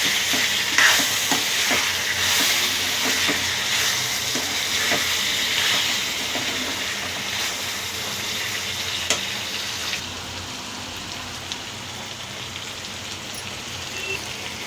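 Onions, green chillies and ginger-garlic paste frying in a hot pan, a loud, dense, rain-like crackle of sizzling oil that holds steady throughout, with a few faint clicks and no speech.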